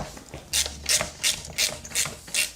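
A ratchet tightening a bolt that holds a radius arm to an axle mounting plate on an independent suspension, six evenly spaced rasping clicks in a steady rhythm, close and clear, with no speech.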